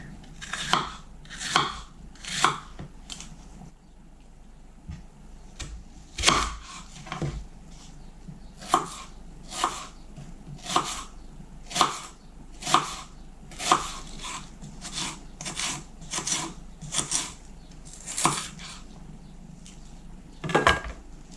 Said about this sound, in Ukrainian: Перець та цибулю нарізатиму соломкою.